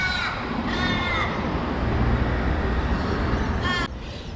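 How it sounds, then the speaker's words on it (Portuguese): A bird, crow-like, caws in short harmonic calls near Darling Harbour in Pyrmont, Sydney: a few calls at the start and another near the end, over steady outdoor city noise. "Se liga esse pássaro."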